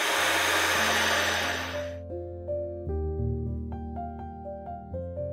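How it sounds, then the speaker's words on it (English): A hair dryer drying gesso on a painting surface roars with steady broadband noise for about two seconds, then cuts off, leaving a few soft tonal notes. "I am going to speed things off with the hairdryer"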